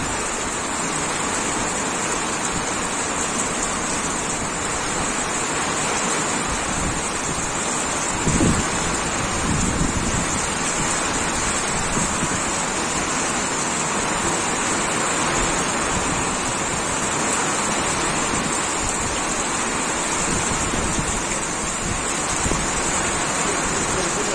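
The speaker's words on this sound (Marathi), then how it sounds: "पाऊसच नाही तर जोराची हवा पण आहे" Steady, dense roar of heavy rain with gusting wind, continuous and loud throughout, with a brief thump partway through.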